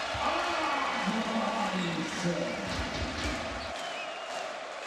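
A basketball crowd at a FIBA EuroBasket 2022 game between Estonia and Greece applauds and cheers a substituted player, with steady sustained clapping under a commentator's talk that fades toward the end.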